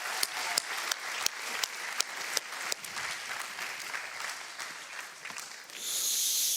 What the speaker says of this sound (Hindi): गाइस, जोरदार तालियां हो जाए